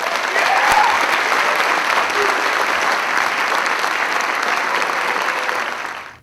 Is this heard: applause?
yes